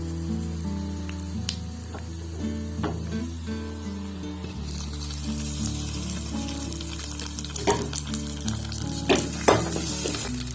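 Hot tempering of fried dal and green chillies poured onto curd rice, a steady crackling sizzle that surges louder midway, with stirring scrapes and bursts of spitting near the end.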